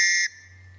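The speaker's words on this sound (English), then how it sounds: "with Tops knives comes their infamous Tops whistle, which is a 3-tone whistle blast" A shrill, three-tone TOPS survival whistle blast sounds loudly for a brief moment, then cuts off, leaving a low hum.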